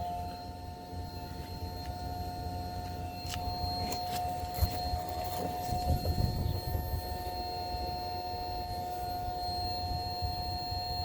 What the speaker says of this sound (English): Guys, the pump is running.